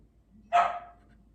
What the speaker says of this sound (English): And that's the other dog barking.